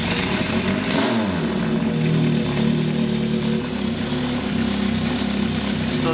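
A Honda CB750 K0 Sandcast motorcycle engine runs close by, settling from a brief rev into a loud, steady, slightly lumpy idle with no talking over it.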